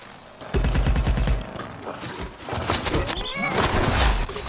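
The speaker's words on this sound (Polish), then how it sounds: "o ktoś strzela" Gunfire in the video game Plants vs. Zombies: Battle for Neighborville, loud rapid bursts of shots layered over dense game sound effects and music, sustained throughout.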